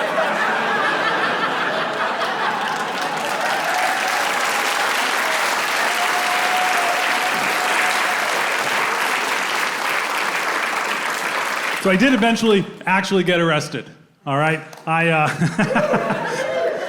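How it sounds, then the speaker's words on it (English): Comedy-show audience applause with scattered chuckles and laughter, a dense sustained crowd clapping for about twelve seconds before it fades and a comedian starts talking into the microphone. "love that there's applause for that"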